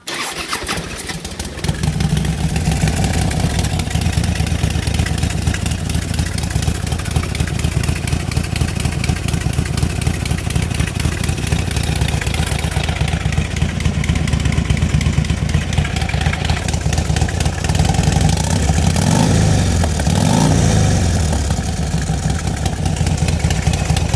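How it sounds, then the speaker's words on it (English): A DIY turbocharged Harley-Davidson Street Glide cranks and fires, then settles into a loud, lumpy idle with a steady throb, swelling with a few blips of the throttle, close up and without talk. "figured I'd give you guys a quick little update on the DIY Turbo Harley. So start it up real quick."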